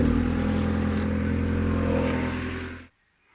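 A Vauxhall Nova SR's C20LET redtop turbo engine idles while warming up, a steady close rumble with a constant hum that runs evenly and then cuts off abruptly near the end.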